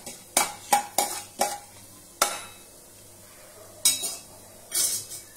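A spoon stirs urad dal in a pan over a low gas flame, giving several sharp metallic clinks against the pan, then softer scraping and an occasional clink, close and clear.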